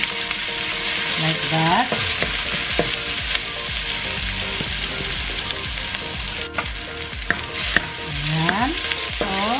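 Onions sauteing in a hot pan for a spicy chicken curry with coconut cream, a steady sizzle and crackle broken by repeated scraping strokes of a stirring utensil, with a brief spoken remark.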